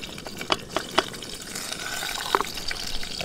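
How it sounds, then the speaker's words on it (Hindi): Green beans dropped into hot oil in a pan at a forest campsite, giving a wet, crackling spatter with a few sharp pops over a steady sizzle close by. "तेल गर्म होने के बाद ये डालेंगे हम बीन्स थोड़ी सी, तो ये डालेंगे हम इसमें बीन्स।"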